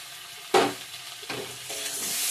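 Chopped tomato hits a hot pan with a sudden sizzle, then frying hisses quietly along with a couple of stirring scrapes, the sizzle rising again toward the end.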